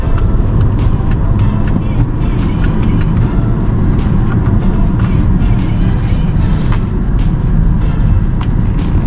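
A vehicle driving in Atlanta traffic gives a steady, loud, close road rumble with broadband tire and engine noise, unbroken and constant throughout.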